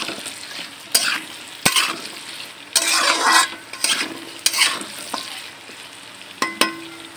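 Potato pieces stirred while frying in oil in a pan, with bursts of sizzle and sharp scrapes and clinks of a spoon against the metal at irregular intervals over a soft background hiss.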